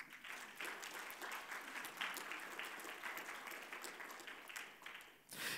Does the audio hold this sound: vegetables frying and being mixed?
no